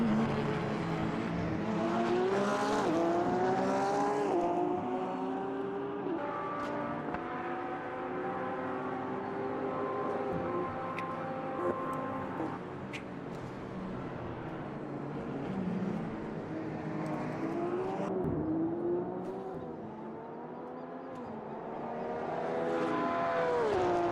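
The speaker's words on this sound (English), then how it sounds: "that Porsche is still trying to get that overtake done" Race cars including a Porsche lapping Spa Francorchamps in a 2.5-hour endurance race, engines droning loud and continuous with rising and falling pitch as cars accelerate, pass and brake, several layered at once.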